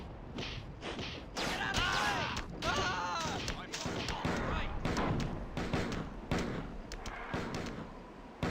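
Pistol gunfire in a video game, a rapid series of loud, close shots and thuds spread through the clip, mixed with talk and other game noise.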